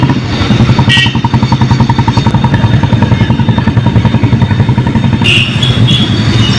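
Police motorcycles on night patrol putter loudly and rhythmically close by, a steady pulsing drone with brief higher-pitched whines as they ride past.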